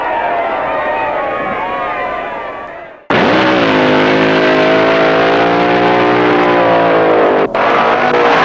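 AA fuel dragster launching hard off a drag strip starting line in the 1966 season, a fading roar that cuts out, then a sudden loud, sustained blast of engine noise with a brief dropout near the end.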